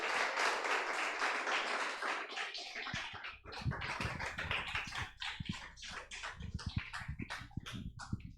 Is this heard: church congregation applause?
yes